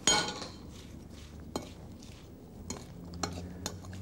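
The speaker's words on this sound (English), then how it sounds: "and stir up well" A spoon stirs strudel filling of sultanas, almonds and cinnamon in a bowl, making quiet scraping with several sharp clinks against the dish, irregular and close, with no talk.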